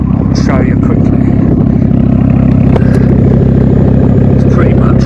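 A 2007 Ford Focus ST with a near straight-through KMS exhaust idles loudly close by, a deep steady burbling rumble with some clatter, while someone talks over it.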